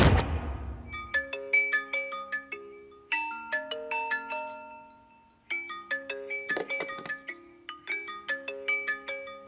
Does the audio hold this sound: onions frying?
no